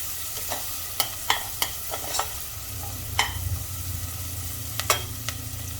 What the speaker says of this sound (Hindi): हाई फ्लेम पर भून लेंगे इसे इस तरह से चला कर।